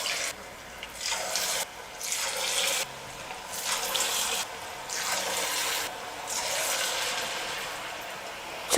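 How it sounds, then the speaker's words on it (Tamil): Small balls of dough are dropped into hot oil in a kadai for a quick snack, setting off close, bright hissing sizzles that come in repeated surges with short lulls between. "நல்லா எண்ணெய் சூடேறினதுக்கப்புறமா கொஞ்சம் கொஞ்சமாக மாவை எடுத்து நம்ம சின்ன சின்ன உருண்டைகளாக போட்டுக்கலாம்"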